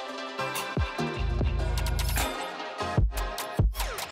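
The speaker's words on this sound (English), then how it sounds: "you can really hear the ducking and the impact the kick has" A full music mix with punchy kick drums; the rest of the track audibly dips and pumps around each kick hit. No speech.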